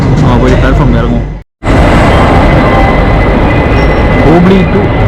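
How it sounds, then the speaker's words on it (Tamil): A passenger train pulls into an Indian railway platform with a loud, continuous rumble and clatter, briefly cut off near the start, then rolling on steadily with voices mixed in. "ஸோ அங்கேருந்து வருது இந்த ட்ரெயின், பேசஞ்சர் ட்ரெயின்"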